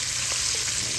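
Green peppers frying in a Dutch oven at a bushcraft camp breakfast, a loud, dense, continuous sizzle right up close for about a second, with no talking.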